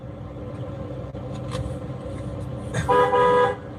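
A car horn honks from inside a parked vehicle, a short loud blast near the end that rises clearly over a steady low engine and street rumble.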